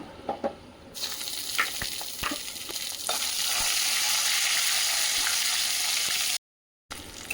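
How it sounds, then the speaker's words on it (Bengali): Whole spices, including bay leaf, cinnamon, cloves and cardamom, and ginger paste fry in a new pot for biryani: a loud, steady hiss of hot oil with stirring scrapes and clatters, briefly cut to silence before the end. "গোটা গরম মশলাগুলো ভেজে নিয়েছি এখন দিয়ে দেবো আদা বাটা"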